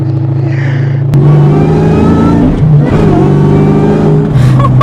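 A 2003 Mustang Cobra engine revs hard at full throttle, its loud, steady drone climbing in pitch, then dipping briefly as it shifts and pulls up again.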